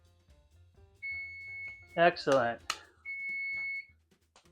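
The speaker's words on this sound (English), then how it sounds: "I have a timer set. I'm just waiting for it to buzz." A kitchen timer beeps while dough is kneaded for flaky singaras, sounding as two sustained electronic tones, one before and one after a short spoken word, clear and close.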